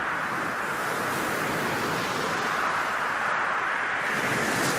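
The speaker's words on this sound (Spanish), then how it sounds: "El permanente vaivén del mar sobre la plataforma continental" Sea waves wash steadily onto the coast at Guardamar, Spain, a dense, even roar of surf that stays at a constant level with no breaks or voices.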